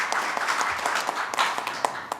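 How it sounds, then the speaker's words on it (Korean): Seminar attendees clap after a panelist is introduced, a modest scattering of distinct hand claps from a smaller audience, irregular and moderately loud, with no speech over it. "박수 부탁드립니다."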